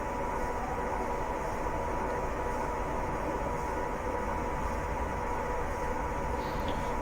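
Continuous rumbling drone of a Class 87 electric locomotive in Train Simulator Classic, picking up speed down a steep 1 in 75 slope, a steady even roar of running gear and motors with no talking.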